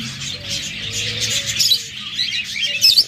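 Pet budgerigars, cockatiels, lovebirds and red-eyed diamond doves in a shop chatter and chirp continuously, a dense bright twittering from many birds close by, with faint low cooing underneath.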